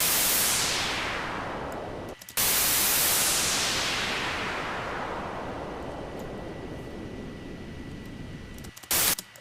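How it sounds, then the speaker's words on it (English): Synthesized noise swept by a filter, roaring bright then sliding steadily downward in tone, cut briefly near the middle before a second long descending sweep, with a short loud burst at the end; no talking. "If I bring the frequency right down, so you can hear how the filter goes"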